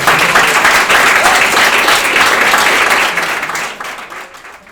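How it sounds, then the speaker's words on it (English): Warm audience applause at a writers' reception panel, full and dense clapping that holds steady for about three seconds, then thins and fades as it winds down. "Please give a warm round of applause."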